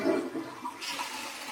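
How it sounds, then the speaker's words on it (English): A household toilet flushes in a steady rushing wash of water, recorded up close inside the bathroom with no voices. "every time you use the toilet and you flush the toilet"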